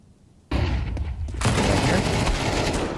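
Gunfire and a flashbang in a Counter-Strike style competitive video game match during an ESEA league game, loud continuous bursts of shots and blasts after a short quiet start, with a caster's voice partly underneath.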